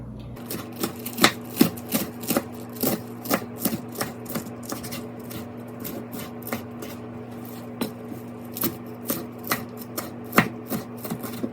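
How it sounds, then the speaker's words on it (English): Knife chopping through baby spinach and kale on a cutting board, a steady run of crisp, close taps at an uneven rhythm over a low background hum, with no talking. "So I'm just going to chop up my greens."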